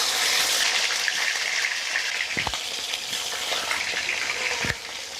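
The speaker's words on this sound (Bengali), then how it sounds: "তেলটা গরম হয়ে গেছে। এখন এর মধ্যে আমি দিয়ে দিচ্ছি মুরগির রানগুলো।" Chicken legs fry in hot oil in a wok, giving a loud, continuous sizzle and crackle with a couple of sharp knocks near the middle and end.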